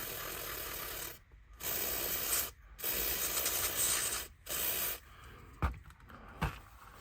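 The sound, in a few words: contact cleaner sprayed on model train armature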